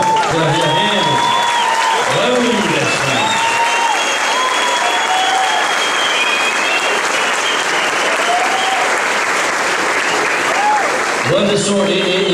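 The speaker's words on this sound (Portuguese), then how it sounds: "Vamos aplaudir ao Senhor pela vida dele." Church congress audience applauding warmly, a dense sustained clatter of many hands filling the room, with a voice speaking over it at the start and end.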